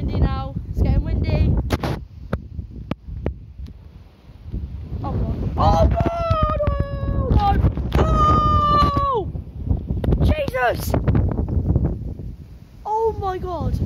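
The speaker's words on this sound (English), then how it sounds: "the wind is so loud" Loud gusting wind from a Christmas Eve storm roars into the microphone while people shout and exclaim excitedly over it.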